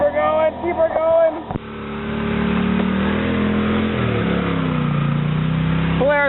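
A Polaris ATV engine revs on an off-road club trail ride in Big Valley, rising and falling in pitch as it labours, with people talking before and after the revving.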